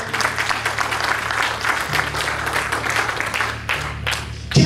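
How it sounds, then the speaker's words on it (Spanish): A church congregation claps steadily and loudly through a Sunday afternoon service, a dense continuous wash of many hands with no break. "Le dan ese aplauso al Rey en esta tarde"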